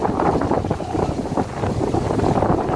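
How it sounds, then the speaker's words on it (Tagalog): Loud wind gusts buffet the microphone over a rough, continuous rush of churning sea water, close and turbulent with no talking. "Malakas yung alon sa dagat."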